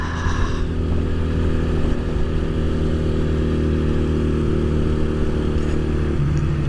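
A Honda CB 125 motorcycle pulling away from a green light and running up through the gears, the close engine note climbing and dropping with each quick shift, loud and continuous with no talking.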